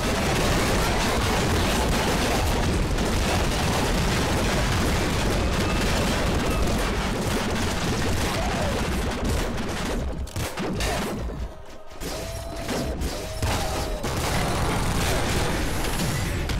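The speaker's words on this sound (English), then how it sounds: "Send out as many super plasma cannon shots as you can." Super plasma cannon shots fire in rapid succession in the PC game Nuclear Throne, making a dense, loud barrage of blasts and booms that thins out briefly near the end, with occasional game effects between them.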